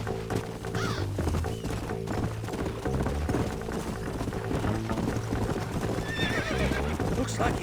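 In Red Dead Redemption, horses gallop with a steady rolling clip-clop of hooves, a neigh breaking through near the start. The riding continues under game sounds and voices.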